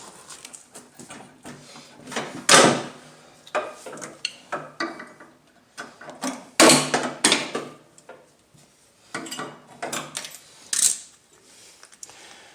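Metal clinks and scraping taps as a cotter pin is worked out of a Craftsman T110 lawn mower deck during spindle replacement, coming in irregular, close bursts with quiet gaps between them and no talking.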